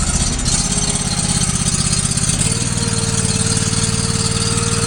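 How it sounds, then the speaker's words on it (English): A motor runs at low idle, a steady, loud, close mechanical hum with rapid pulsing throughout. Its pitch shifts slightly downward about halfway through, and no voices are heard. "Okay, he turned the motor on."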